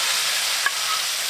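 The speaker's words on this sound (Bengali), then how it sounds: "সর্ষের তেল, তেল গরম হয়ে গেছে, শুকনো চিংড়িগুলো ভেজে নেব।" Dried shrimp frying in hot mustard oil, a continuous close crackling sizzle with a brief sharp tap of stirring midway.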